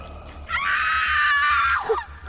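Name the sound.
woman screaming in terror, horror story sound effect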